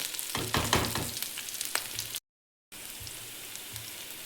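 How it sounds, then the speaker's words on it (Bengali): Onions frying in a pan, a close, soft crackling sizzle with scattered pops and stirring sounds, broken by a brief gap of silence. "পেঁয়াজের বেশ একটা সুন্দর ভাজা গন্ধ আসবে এবং পেঁয়াজটা হালকা হালকা লালচে হয়ে আসবে"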